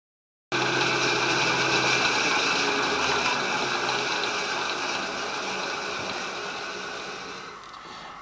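A power drill cuts a countersunk pilot hole in a shop-built steady rest, giving a loud, steady, close whine that starts abruptly and holds for several seconds before easing slightly, with no talking.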